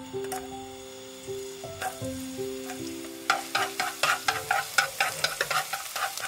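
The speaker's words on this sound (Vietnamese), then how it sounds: "Sau đó thì mình phi hành tỏi cho thơm." Shallots and garlic sizzle and fry in a pan, with steady crackling frying underneath and repeated stirring or scraping strokes in a quick rhythm during the second half, close and moderately loud with no talking.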